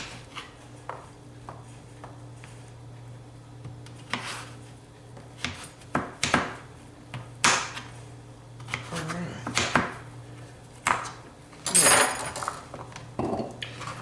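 A knife cuts through food on a cutting board in a home kitchen. Scattered taps and thuds come at an uneven pace, mixed with clinks of cookware, and the whole scene stays quiet and close.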